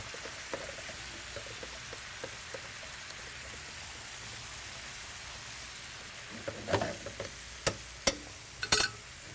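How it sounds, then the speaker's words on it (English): A pan of ragu alla Bolognese with meat and pancetta gives off a faint, steady hiss as white wine sizzles and cooks off, broken near the end by a few light clicks and scrapes of a utensil. "I'm going to add a touch of white wine. You got to let it evaporate."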